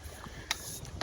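A canoe is paddled with a paddle board paddle, giving a few short soft water splashes and strokes over a low background rumble, heard close up.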